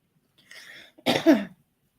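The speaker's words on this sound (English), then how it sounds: "I still have my coughs" A person coughs twice in quick succession, a short rough burst followed by a heavier, louder cough, close and alone with no talking.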